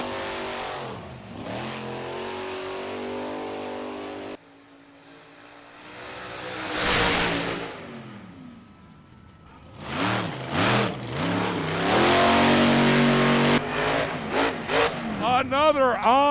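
Monster Jam monster truck engines revving and accelerating at the World Finals arena, loud and surging in bursts under an excited announcer's commentary, with crowd noise between runs.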